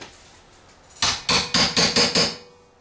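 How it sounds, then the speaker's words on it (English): Six quick, evenly spaced hammer taps ring out sharply against metal T-bar ceiling grid wall angle, close and loud, then stop. "I gotta get my hammer up in there. I gotta tap it up further."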